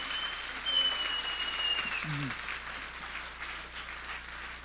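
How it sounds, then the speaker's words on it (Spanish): A church congregation claps for the Lord during a Spanish-language service, a moderate, fairly distant applause of many hands spread evenly throughout, with a faint high whistle-like tone and a low steady hum beneath it. "Pues dale un aplauso todavía más fuerte al Señor."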